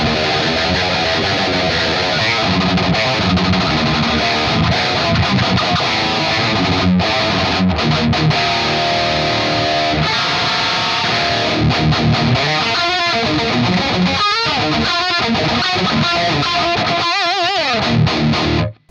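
Heavily distorted rhythm guitar through a Revv Generator 100P amplifier with the contour switch down, played on 8- and 6-string guitars: dense, chugging palm-muted riffs with sharp stops, loud and continuous, cutting off abruptly at the end.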